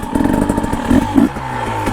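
A dirt bike doing a pivot turn outdoors, its engine revving and buzzing loudly and close, with brief surges and clattery mechanical noise and no talking.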